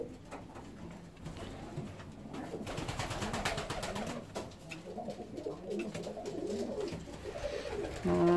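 Fancy ornamental pigeons coo in repeated soft, throaty rolls from a flock out in the open, with overlapping calls, steady at moderate distance and slightly louder near the end.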